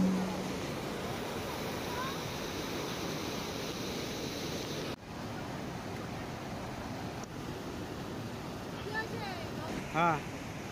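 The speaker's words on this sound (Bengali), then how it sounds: "একদম পাহাড়ের পাথরে বাড়ি মারছে, তাই ঝর্ণার এত গর্জন" A waterfall at Rishop in North Bengal pounds onto mountain rocks, making a loud, steady, close roar that runs unbroken through the whole stretch, with only a brief dip partway.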